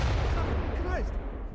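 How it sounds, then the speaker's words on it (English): Explosion sound effects from the stealth video game Splinter Cell: a deep, loud boom with rumbling low-end decay that fades over a second and a half, with a voice briefly heard over it. "Effects from explosions"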